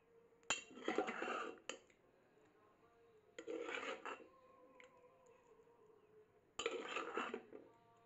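Cooked dalia being poured into a bowl, with three bursts of clinking and scraping from a spoon against dishes, separated by short quiet pauses, close by and fairly soft.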